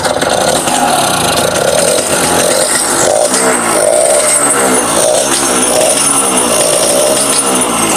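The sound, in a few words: 1975 Yamaha L2 Super motorcycle engine running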